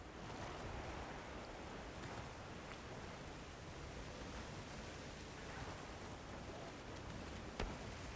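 Steady, dense wash of heavy rain in the video game Monster Hunter Wilds, a constant broadband hiss with no voices.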